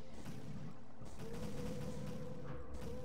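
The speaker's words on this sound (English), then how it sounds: "Wait, who's shooting at me again?" Gunfire in the video game Juice Galaxy crackles as a rapid, dense fusillade under a steady tonal hum, fairly faint and continuous across the whole stretch, with no talk.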